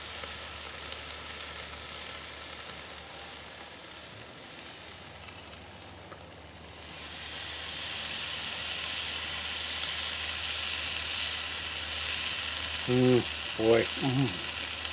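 Thick tomahawk ribeye steak laid onto a hot mesquite grill, a quiet background that swells into a loud, steady close sizzle, with a brief voice near the end.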